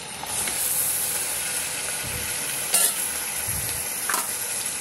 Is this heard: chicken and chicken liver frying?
yes